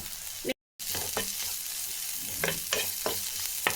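Onion, green chilies and ginger-garlic paste fry for dal curry in a hot pan, giving a steady close sizzle broken by a brief gap and repeated scraping stirs of a spoon.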